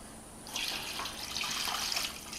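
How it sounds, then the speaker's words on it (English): Water is poured into a container over meat being cured for pastrami. After a short quiet start, a soft, close splashing stream runs continuously, fairly faint and with no speech. "I'm going to throw the water in there now"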